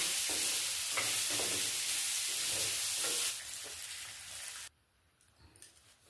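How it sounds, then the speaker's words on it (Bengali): Paneer frying lightly in hot oil with cumin seeds, a steady bright sizzle with a few stirring scrapes, loud at first, then easing off and dropping away near the end. "পনিরটা একটু নেড়ে নিতে পনিরটা একটু ভেজে নেব হালকা করে"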